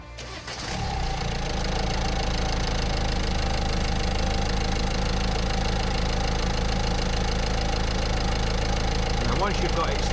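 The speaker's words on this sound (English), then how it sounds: "Now once you've got it started, just check you don't have any leaks." Diesel engine of a Peugeot Partner / Citroen Berlingo van catching and settling into a steady, loud idle after a fuel filter change, a constant clattering hum close by.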